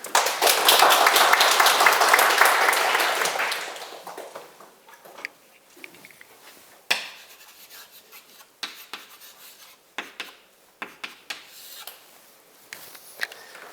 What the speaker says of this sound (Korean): 너무 좋은 질문인데 박수 한번 치세요